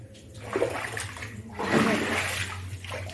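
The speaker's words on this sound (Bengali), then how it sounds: "দেখো ঘরের মধ্যে কত জল এই যে এখনও ভাসছে" Floodwater from heavy rain sloshes and splashes inside a house, with close, uneven watery swishes and surges over a low steady background rumble.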